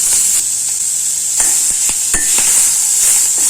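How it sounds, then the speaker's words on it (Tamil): Onion and crushed garlic sauté in a pan with a bright, steady sizzle, while a spoon stirs through them with several distinct scraping clicks against the pan. "கொஞ்சம் வெங்காயம், இந்த இடித்த பூண்டு எல்லாத்தையும் ஒரு வதக்கி ஒரு ஓட்டி வச்சிடலாம்."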